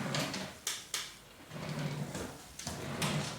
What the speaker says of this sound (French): je vais les ranger dans mon tiroir